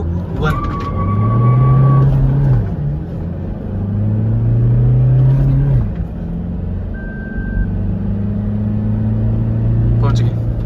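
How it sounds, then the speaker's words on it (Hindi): A 2024 Toyota Fortuner with a manual gearbox launches hard in Sports mode with traction control off during a 0-100 run. The loud engine climbs in pitch through the gears, with short breaks at each shift, and a voice can be heard faintly underneath. "स्पोर्ट्स मोड ट्रैक्शन ऑफ, आखिरी 0 to 100। और लॉन्च जो है अच्छे से लेने की कोशिश करूँगा"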